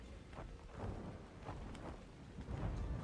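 Steady rain hisses across the scene in the video game ARK, with low rumbling thunder rolling underneath and swelling louder near the end, an unbroken stormy wash with no voices.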